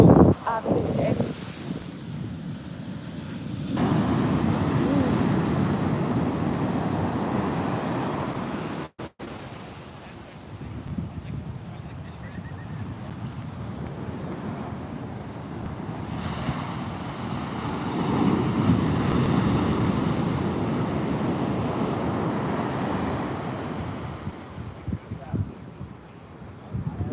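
Ocean waves wash around a jetty under gusting wind that buffets the microphone, a broad rushing roar swelling and easing in long surges, with a person talking briefly.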